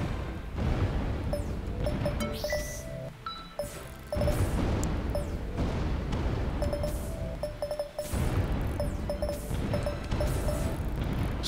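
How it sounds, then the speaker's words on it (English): Explosions from the Typing Fingers Enemy video game roll on without pause, dense booming crashes stacked over loud game music and sound effects, with brief dips before the barrage resumes. "So many explosions are happening right now."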